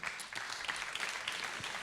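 Applause from an audience at an awards ceremony, a quiet, steady patter of many hands clapping at a moderate distance, continuous for the short stretch with no voices over it.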